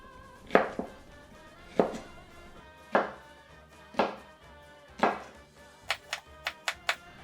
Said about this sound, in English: We're just gonna do thin little slices.